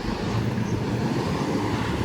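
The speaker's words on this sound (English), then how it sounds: "A little bit windy today." Wind buffeting a microphone on an inner-city street in Frankfurt, a steady low rumbling roar that fills the whole stretch with no voices on top.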